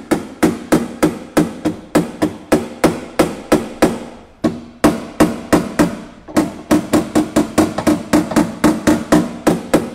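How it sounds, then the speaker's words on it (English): A hammer taps sheet metal held under pressure with a double-action setup, sharp metallic strikes in a quick steady rhythm, close and loud, with a brief pause before the tapping resumes slightly faster. "You don't need a heavy strike to move metal. You can actually finesse it in, and that's exactly what this hammer is built for"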